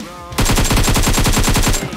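A rapid, loud automatic burst of gunfire in PUBG Mobile, about a dozen evenly spaced shots in under two seconds, close and continuous.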